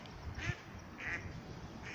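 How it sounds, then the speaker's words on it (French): Ducks quacking by a river, three short nasal quacks spaced about half a second apart, moderately close against a soft outdoor background. "On remercie les canards."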